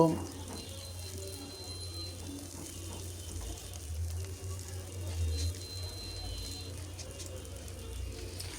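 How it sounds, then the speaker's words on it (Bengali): Green chillies, onion and crushed garlic fried in a pan for a chicken and bottle gourd dish, giving off a steady, moderate sizzle that holds evenly from start to finish. "এখন এগুলো আমি ভালোভাবে ভেজে নিব"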